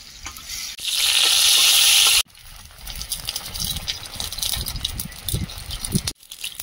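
Greens and dried red chillies frying in a home kitchen pan, with a loud burst of sizzle for a couple of seconds that settles into steady crackling and stirring rattles.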